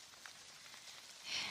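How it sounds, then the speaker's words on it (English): Steady rain patters on surfaces outdoors, a soft even hiss with faint scattered drops that swells slightly louder toward the end. No voices. "A little wet, but I always enjoyed the rain."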